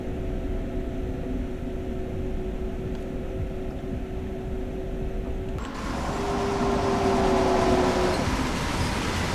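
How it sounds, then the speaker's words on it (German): Long freight train rolling along in Train Sim World on the Ruhr-Sieg Nord route, a steady rumble of wagons under a sustained horn-like tone that brightens and swells partway through, with no talking. "Wieder ein langer Zug."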